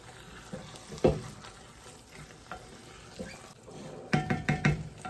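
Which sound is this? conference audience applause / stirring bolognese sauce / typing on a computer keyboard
stirring bolognese sauce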